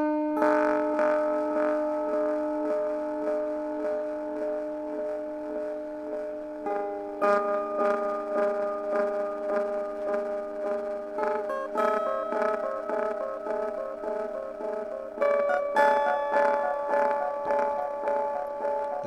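Guitar through a Hyper Light ring-mod delay pedal into a cheap homemade amp: sustained metallic, bell-like tones with repeating delay feedback that pulses rhythmically and shifts pitch as new notes are struck, steady and fairly loud without talking.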